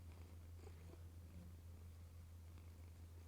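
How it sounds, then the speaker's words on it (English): A big pet cat purrs close by in a low, steady, continuous rumble with no talking over it. "You guys hear the purrs?"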